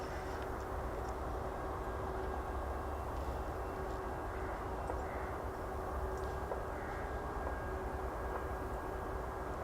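A Eurofighter Typhoon jet at RAF Coningsby gives a steady, continuous distant engine roar that holds at a constant level throughout, with no voices.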